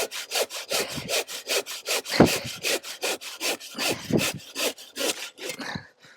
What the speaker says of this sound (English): you see I'm using the side of that to guide the saw there